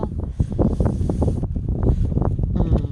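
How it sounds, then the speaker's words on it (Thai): Strong, cold wind blowing across a farm field planted with corn and fig trees, a loud continuous gusty rush buffeting the microphone, heard close with no speech. "ลมก็แรงนะคะ"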